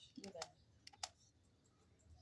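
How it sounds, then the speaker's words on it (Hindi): A name is typed on a computer keyboard as a short, quiet burst of crisp key clicks up close, then a pause in a hushed room. "अब पर्सनल के बाद वो सबसे पहले नाम पूछ रहे हैं, नाजिश लिख द"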